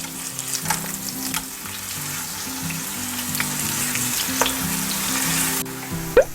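Tofu slices pan-fried over medium-low heat, a continuous close sizzle with light clatter as a piece is flipped near the end.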